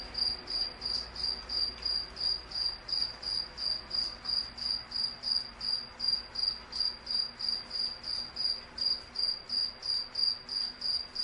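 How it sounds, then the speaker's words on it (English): Crickets chirp at night in a graveyard, a steady pulsing trill that repeats about twice a second, with a faint hum of background ambience and no voices. "The crickets here at the graveyard get very wild"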